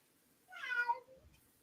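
A single drawn-out cat meow, close and fairly clear, rising then falling, in an otherwise quiet room.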